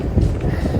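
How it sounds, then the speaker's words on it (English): Wind blows steadily across a microphone on the Appalachian Trail, a loud low rumbling buffet with gusty surges, close and continuous with no clear voices. "With the wind blowing."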